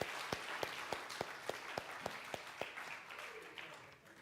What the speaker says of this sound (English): Now let's give another round of applause to Phoenix, to Michael, to our choir, to our musicians.